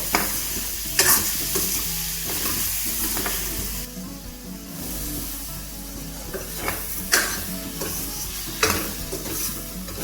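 Paneer fries until crisp, a steady, fairly loud sizzle running throughout, with occasional scrapes and clinks of a spatula against the pan nearby, and no one speaking.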